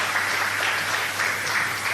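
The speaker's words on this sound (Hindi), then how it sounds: "वो किचन में जो थी उनके लिए फिर से और जोरदार तालियां प्लीज" An audience at a live self-healing program claps for the kitchen team who prepared the prasad, producing steady, dense applause that holds at an even level throughout without talk.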